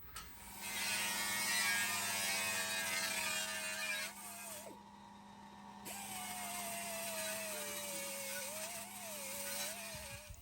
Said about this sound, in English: I'm going to take a wire wheel and clean all this up